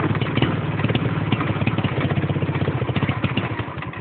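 Motorcycle engine idling steadily after a restart on a roadside when the petrol ran low, with a close, loud, rhythmic chugging and mechanical clatter throughout.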